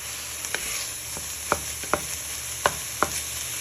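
Peppers and beef mince sizzling in a pan, a steady hiss broken by several sharp scraping clicks as the spoon stirs, close with no talking.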